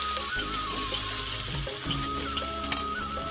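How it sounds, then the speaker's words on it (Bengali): Spice paste for a meat curry, cooked without onion or garlic, fries steadily in a pan with a continuous close sizzle broken by occasional clinks and scrapes of stirring. "এবার এই মশলাটা একটু ভালো করে কষিয়ে নিই,"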